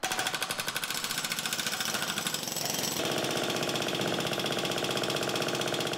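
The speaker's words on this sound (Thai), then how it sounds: "ทีมช่างเจาะถนนลึกลงไป 60 เซนติเมตรเพื่อวางแนวท่อร้อยสายไฟ" A jackhammer breaks up the road surface on Sukhumvit 24 at night, cutting a 60 cm deep trench to lay underground power cable ducts. It gives a steady, rapid pounding that is loud and continuous, with a heavier engine-like clatter in the second half.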